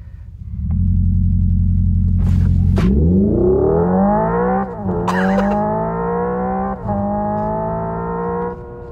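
A Hyundai Ioniq 5 N accelerating hard in its simulated gear mode, a loud, close synthetic engine tone that climbs in pitch through several distinct shift steps, each marked by a brief drop and jolt.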